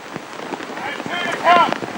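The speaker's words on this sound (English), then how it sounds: "With very heavy rain falling here at Rosehill." Heavy rain pattering on surfaces at Rosehill racecourse, a dense close crackle of drops with a brief louder burst midway, a voice faintly underneath.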